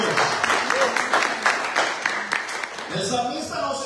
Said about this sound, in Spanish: ¿Podemos dar un aplauso por eso a Dios?